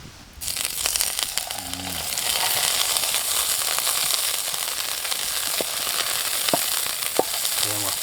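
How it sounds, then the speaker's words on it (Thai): Beef steak sizzles and crackles steadily in a hot buttered pan, a loud continuous frying hiss with occasional sharp pops and a few clinks of utensils. "ต้องการกระทะให้มันร้อนๆแล้วเราเอาเนื้อใส่ลงไปแช่"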